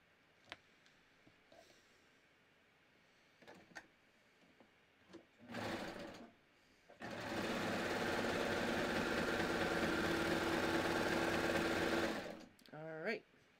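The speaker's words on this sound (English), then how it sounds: "I'm going to stitch them. Let me do them both at once." Knit pants are run through a sewing machine, with a short burst of stitching and then a longer, steady, loud run lasting about five seconds, amid brief talk and handling sounds before and after.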